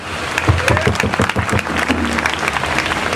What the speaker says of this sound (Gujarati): બસ તાળી પાડો